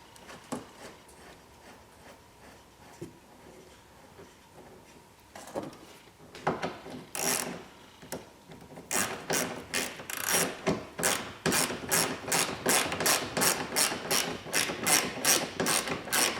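A ratchet tightens plastic taillight mount bolts on a Polaris Ranger 900, starting with sparse clicks and scrapes and building into a steady run of rapid, close pawl clicks.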